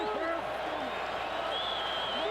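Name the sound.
stadium crowd noise at Cowboys at Chiefs football game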